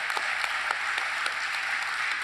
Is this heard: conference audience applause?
yes